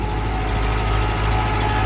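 A sixteen-year-old tractor's diesel engine runs steadily close by, a loud continuous low throb with a mechanical hum and no speech over it.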